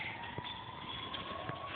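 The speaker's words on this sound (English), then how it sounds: "There's sirens." Emergency vehicle sirens wail steadily at a distance along a street during a walk with a puppy, a sustained tone running through the whole moment beneath faint outdoor background noise.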